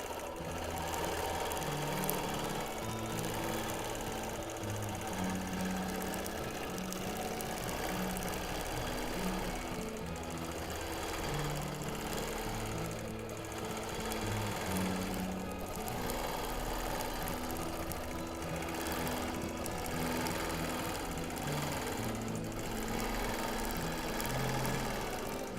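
A sewing machine free-motion quilting a mod boxes pattern runs steadily and continuously, its rapid needle rhythm close and even throughout, with no talking.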